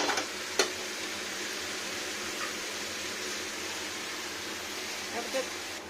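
Cabbage cooking with a fish head, steaming in a covered pan, gives a soft, continuous hiss broken by a few faint clicks and taps.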